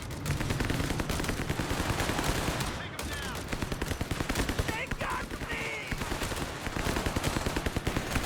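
Rapid machine gun fire in the video game Company of Heroes 3, loud sustained bursts of rattling shots with brief pauses, mixed with other gunfire in a 2v2 battle.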